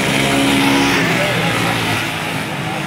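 A motorcycle engine with its muffler cut out climbing a steep hill, a loud, continuous raw roar heard up close.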